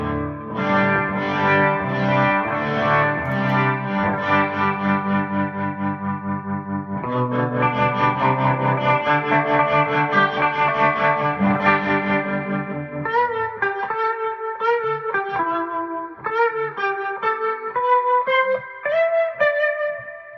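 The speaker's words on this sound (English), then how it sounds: "I wanted to show the Leslie sound out of this rack unit" Distorted electric guitar chords and runs swirling through a warbling Leslie rotary speaker effect from a Digitech rack unit, continuous and loud, ending in a quicker melodic line.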